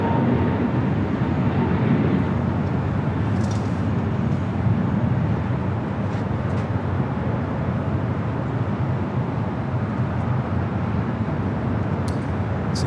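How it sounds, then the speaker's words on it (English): A Boeing 777-300ER taking off from runway 24 left at LAX, a steady broad jet engine roar heard at a distance, unbroken throughout. "the 777-300ER, our next takeoff here on the north side at 24 left"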